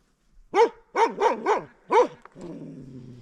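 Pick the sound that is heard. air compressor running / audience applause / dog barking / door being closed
dog barking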